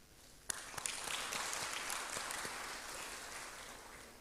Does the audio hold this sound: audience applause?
yes